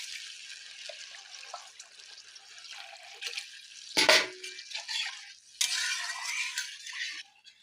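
Broth splashes into a pan of salted, tomato-and-spice masala for a Manipuri fish curry, a soft steady wash of liquid with two louder pouring surges, and no voices.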